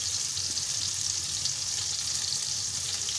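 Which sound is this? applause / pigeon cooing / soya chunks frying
soya chunks frying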